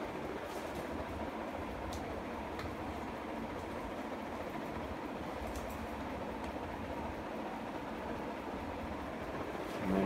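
A KDK B56X5 industrial ceiling fan from 2004, painted almond, spinning down, giving a steady broadband whoosh of moving air with faint intermittent ticks, fairly even in loudness and continuing alone.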